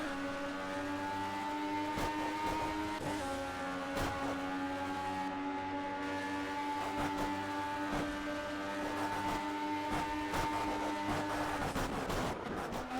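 Sustained LMP1 prototype race car engines in Project CARS on Xbox One, a loud steady high-pitched drone with gear shifts and revving swells over the whole stretch, no talking.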